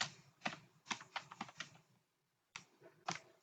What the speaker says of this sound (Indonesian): Lalu selanjutnya kita ketik Python